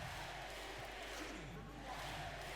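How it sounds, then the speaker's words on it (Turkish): A simulated arena crowd in the NBA 2K20 basketball game roars in a dense, continuous swell of chanting voices during a Finals game, loud and unbroken throughout. "Evet MVP tezahüratları"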